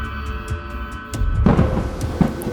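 A storm in an animated thriller, with rolling thunder building into a loud, broad crash of rain and wind that keeps churning to the end, with no talking.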